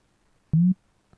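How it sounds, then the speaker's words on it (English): A short, pure synth tone passes through an Ableton Live delay with feedback, followed a moment later by one much fainter echo, with no talk. "that's telling you how many echoes you're going to get and the space between the echoes"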